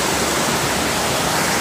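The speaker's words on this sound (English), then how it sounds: "this is a little bit of raging water here" Raging water rushing over rocks near a footbridge, a loud, steady, broadband roar filling the whole moment with no break.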